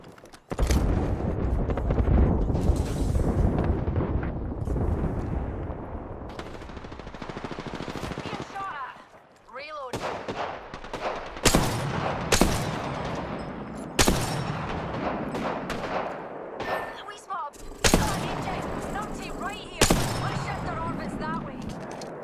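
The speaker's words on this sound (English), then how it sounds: "They're shooting at me." Heavy rattling automatic gunfire from an enemy squad in a video game fight, loud and nearly continuous with sharp bursts and blasts throughout, mixed with game effects and a player talking over it.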